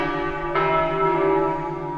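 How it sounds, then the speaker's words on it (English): Church bells of St. Mark's Square ringing across the city, a moderately faint, resonant peal with a fresh strike partway through and a long humming decay, heard alone. "There's even some sound design of the bells going off across the city that was recorded in the famous"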